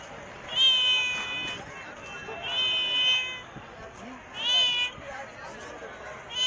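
A cat at a fish market meows three times in clear, drawn-out cries spaced a couple of seconds apart, close to the microphone, over a faint murmur of background activity.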